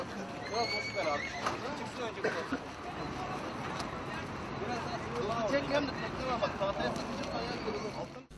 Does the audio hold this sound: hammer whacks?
no